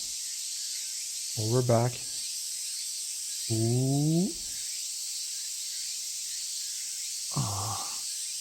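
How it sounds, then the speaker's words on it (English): Cicadas keen in a steady, high, shimmering drone throughout a scene of the visual novel Tsukihime, while someone speaks briefly in short bursts over the insect noise. "The cries of the cicadas."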